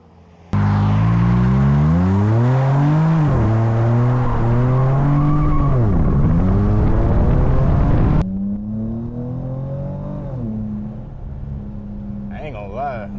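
A V6 car engine with an H-pipe and Vibrant resonators revs loudly and steadily, pitch rising and dipping with throttle blips, then settles to a lower rumble with smaller revs near the end.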